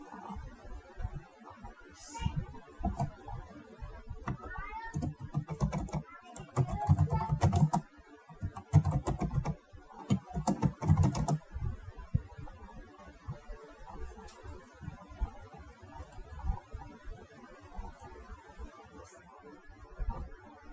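Clacking keystrokes on a computer keyboard while notes are entered into an administrative form, coming in irregular bursts and dense runs of key taps over low background noise, with typing thinning out toward the end.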